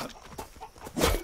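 An Alpha Chicken attacking in the survival game Atlas gives out choppy, harsh clucks. Short bursts come in quick succession and end in a louder squawk, up close, with combat noise behind.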